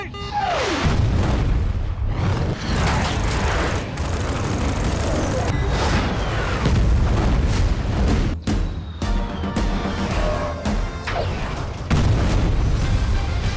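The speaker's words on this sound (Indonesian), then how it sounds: "Patty menunjukkan skill terbaiknya hingga jet tempur Pakistan meledak di langit itu." A Pakistani fighter jet blows up in the sky during a film's aerial combat scene: loud booming blasts and rumbling impacts roll continuously under a dense, dramatic soundtrack, with sharp bursts recurring throughout.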